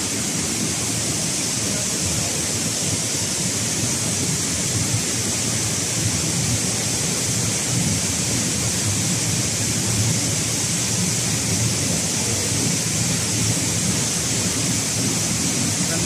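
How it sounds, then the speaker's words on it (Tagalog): Ambon Ambon Falls in Panguil, Laguna, a waterfall roaring as a loud, steady, broadband rush that stays unchanged throughout, close by and with no voices. "Ambon Falls."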